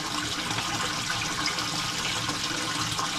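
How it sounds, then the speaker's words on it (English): Water pours steadily into a filter on a 125-gallon koi tank, a constant close rushing and splashing with no break and no talking over it. "Just keep filling this up both sides until it starts to overflow from the front."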